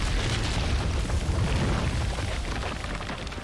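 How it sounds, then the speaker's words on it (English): Cannon fire explosions in the video game Resident Evil 3 (2020) make a continuous, loud roar of booms and bursts, with dense rumbling and crackle running throughout and no distinct gaps between blasts. "On the cannons! Fire!"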